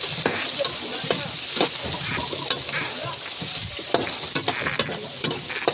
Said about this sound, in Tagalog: Ginisang kamatis. Ayan, tapos nilagyan ng sili,